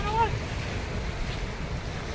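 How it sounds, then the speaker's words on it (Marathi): Strong sea waves breaking on a beach shore, a loud steady wash of surf with wind buffeting the microphone and a brief faint voice near the start. "तर जोरात अशा लाटा."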